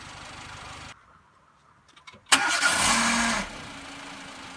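A car engine is slowly and lazily cranked by its starter after a short quiet gap, then catches and runs for about a second before dropping back, fairly close with low background noise and no talking.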